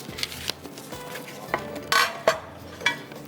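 Spoon scraping and clinking against a Pyrex glass baking dish as food is spooned in, a handful of sharp clinks and scrapes at irregular intervals, close and fairly quiet.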